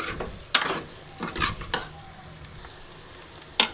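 Mutton boti frying until crispy sizzles steadily in a pan, with several sharp scrapes and clatters of a stirring spoon spread across the sizzle, close up and with no speech.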